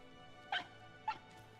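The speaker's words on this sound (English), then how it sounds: "Yeah, I hear you barking, but I don't know if you're barking because I'm going the right way or the wrong way." A dog in the video game Rime gives two short, fairly quiet barks about half a second apart, with nothing else but a low steady background.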